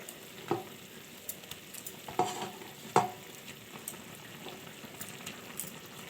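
Hilsa fish pieces going into a thin eggplant and black cumin curry, with a low steady bubbling simmer and a few soft clinks of a spoon against the pot, no talk.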